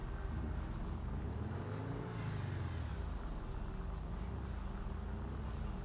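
A car engine droning steadily during a chase in GTA V, a sustained low rumble whose pitch rises and dips as the vehicle accelerates, fairly quiet and continuous with no talk.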